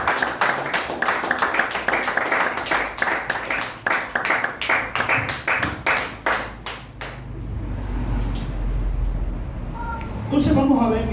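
A church congregation claps together, a dense run of rhythmic hand claps that carries on for about seven seconds and then gives way to quieter room sound.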